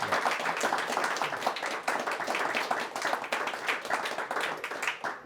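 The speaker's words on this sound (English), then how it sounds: "round of applause for Ben." A room full of people claps in dense, steady applause that holds strong for a few seconds before tapering at the end.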